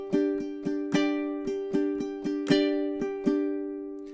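Ukulele strummed in a measured rhythm, about a dozen crisp strums ringing one chord, each stroke sharp and close with ringing decay, no voice.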